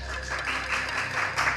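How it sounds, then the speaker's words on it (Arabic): Studio audience applauding after a team's correct answer on an Arabic grammar quiz show, a continuous wash of moderate clapping with no talk. "تصفيق"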